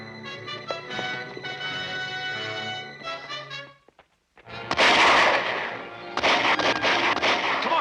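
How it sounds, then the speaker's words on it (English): Rapid bursts of machine gun fire in a 1941 film battle scene, loud and dense, following a stretch of orchestral music that drops to near silence before the shooting erupts in two sustained volleys. "Man the machine guns."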